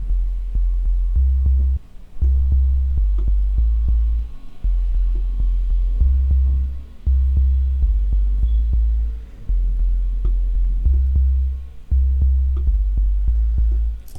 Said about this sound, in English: So I'm going to have like a plucky bass line.